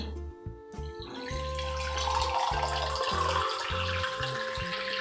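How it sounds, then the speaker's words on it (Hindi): Water runs steadily from a tap into a cooking pot for rice, starting after a brief pause and continuing as a rushing, splashing stream with a faint low hum beneath. "तो चावल के लिए पहले पानी डाल के इसको चावल बैठाती हूँ।"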